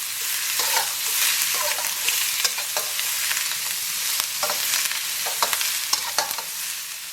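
Meat and onions sizzle in a pot for a meat and okra stew, a loud, steady frying hiss broken by repeated scraping stir strokes of a utensil against the pot.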